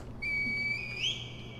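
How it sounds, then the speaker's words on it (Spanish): Junko's whistle is blown in Sekiro: Shadows Die Twice, giving one clear, sustained high whistle that holds steady, then bends upward near the end, heard alone over a low background hum. "¿Llamar al descendiente celestial con el silbato de Junko?"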